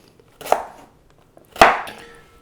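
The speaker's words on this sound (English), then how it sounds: "The stem's going to take a little bit longer to cook, so I'm going to just slice that very thinly." A knife slices through a broccoli stem on a cutting board for a stir fry, two crisp chops about a second apart, close and clear with no talking.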